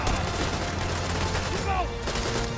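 Rapid gunfire from the tactical shooter Door Kickers 2, a busy spread of shots and bursts at moderate loudness with a brief electronic chirp partway through.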